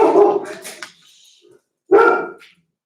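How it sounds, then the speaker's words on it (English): A dog barks at squirrels indoors in two sharp, close bursts separated by a short pause, with a faint whimper in between. "My dog, he sees squirrels and he goes crazy."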